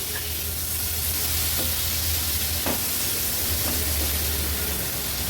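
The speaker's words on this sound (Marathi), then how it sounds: "व्यवस्थित परतून घेते मसाल्यामध्ये" Finely chopped tomatoes sauté in turmeric and spice masala in a pan, giving a steady loud sizzle with a few faint stirring clicks.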